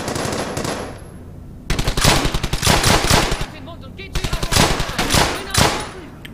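Gunfire from cover in the World War II shooter game Brothers in Arms: Hell's Highway comes as rapid machine-gun bursts in several loud clusters, with short pauses between them.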